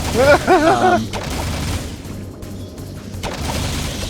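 Bursts of gunfire and booming impacts from the video game Jak II fill a loud, busy stretch, with a voice talking over the start.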